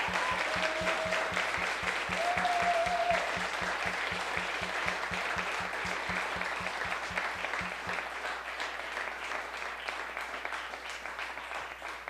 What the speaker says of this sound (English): So let's give them another applause.